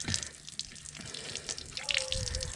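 Water gurgling out of the low point drain under a Jayco Jayflight camper during winterizing, a soft uneven trickle with drips and bubbling, fairly close and quiet.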